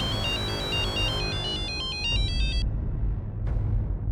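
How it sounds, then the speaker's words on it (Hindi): A phone ringtone plays a repeating electronic melody, loud and close, for a couple of seconds before cutting off, with a brief sharp click afterward and steady room noise underneath. "शिंदे का फोन था"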